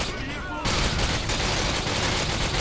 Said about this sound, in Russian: О, чувак, из пулемета просто кладу